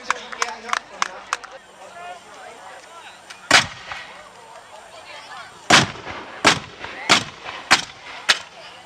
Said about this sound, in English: no misfires, and the cannon's off.